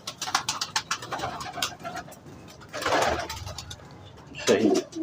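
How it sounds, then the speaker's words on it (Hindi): Indian Zakh, Black Jet and Indian Lakha pigeons cooing nearby in a loft, soft throaty coos rising and falling over several seconds, with faint background voices and rustle. "ये देख, ये दिखाएं कबूतरी"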